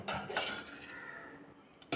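A metal spoon scrapes and clinks against a pot while coconut paste is stirred into a simmering curry, two brief bursts of utensil knocks separated by a quiet pause, close up with no talk.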